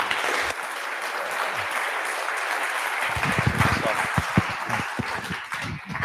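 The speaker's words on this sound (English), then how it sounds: "A round of applause again for Ron." A conference audience at NixCon Paris 2022 claps for a speaker, a steady crowd wash that thins into scattered, separate claps toward the end, with faint voices underneath.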